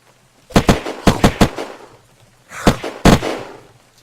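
Sharp, loud gunshots from the game Unturned ring out close by. A quick run of five shots is followed after a pause by two more heavy blasts, and each one decays quickly.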